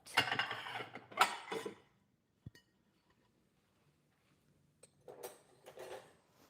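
Ceramic plate clinks and clatters as it is lifted out and set down in a home kitchen during banana pudding prep, a quick burst of close knocks, then a lone tap, then more handling clinks after a quiet pause.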